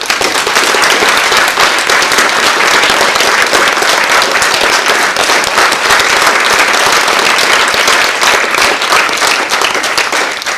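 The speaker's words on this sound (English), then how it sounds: "Another round of applause for these guys," Loud, dense applause from a TEDx audience for the speakers, a sustained roar of many hands clapping close by without a break.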